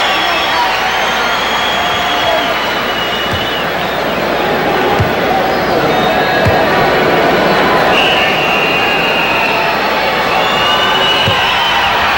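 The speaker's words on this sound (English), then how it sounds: "Horace Grant hears it from the crowd." Arena crowd noise at a 1993 NBA playoff basketball game, a steady, loud roar and murmur filling the whole stretch with a few brief swells.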